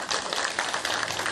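An audience at a public talk breaks into steady, dense applause, a continuous wash of many hands clapping close by with no voices over it.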